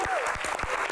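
An audience at an Indonesian Q&A talk event claps for its guest stars in a steady burst of applause from a crowd close by, with individual claps audible throughout the one-second stretch.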